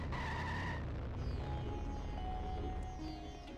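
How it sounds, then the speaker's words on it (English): A car engine roars steadily while tyres skid and squeal, loud and continuous throughout, from The Simpsons Hit & Run video game. "why does his car sound blown out too?"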